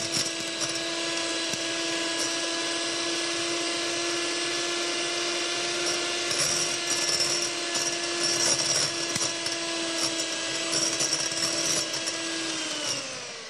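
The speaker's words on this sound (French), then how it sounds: "vous pouvez accélérer la vitesse de votre batteur et mettre le reste du sucre semoule" An electric hand mixer with two small beaters whips egg whites and sugar for meringue, a steady high-pitched motor whine holding constant and close for the whole stretch before winding down at the end.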